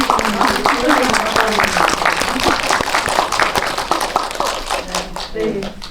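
An audience claps for the PD and music director, a lively patter of hand claps that gradually fades while people talk over it.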